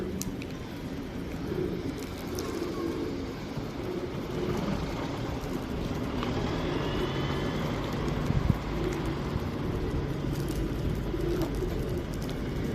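Pigeons being fed outdoors give soft, repeated cooing calls over a steady background rumble of traffic, with a few scattered sharper sounds midway and no one talking.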